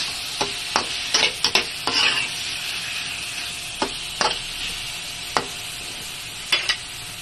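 A spoon scrapes and clinks around a cooking pot of pork and chicken tinola in a series of sharp, separate strokes over a soft, steady sizzle, with nobody speaking.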